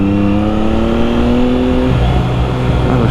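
A Triumph Daytona 660 motorcycle engine pulls hard at full throttle, its note climbing steadily through the revs up to a gear change, then continuing with a rougher, lower drone; loud and close throughout, with no talk.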